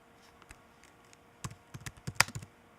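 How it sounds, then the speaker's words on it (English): Keys tapped on a computer keyboard, a sparse run of light clicks that grows busier and louder toward the end, close and alone against a quiet background. "Now we'll type that right."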